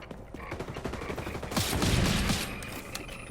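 Gunfire in the video game XDefiant fires as a rapid burst of shots, with a denser, louder volley in the middle of the clip.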